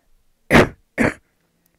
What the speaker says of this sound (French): il faut que je tousse